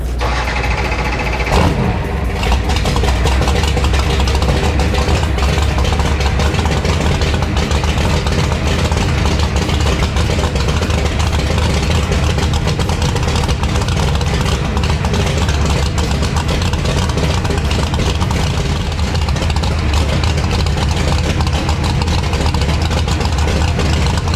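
An NHRA Mountain Motor Pro Stock drag racing car engine fires up after a brief start for a warm-up and idles loudly and roughly for the rest of the clip, a deep, steady, rumbling drone.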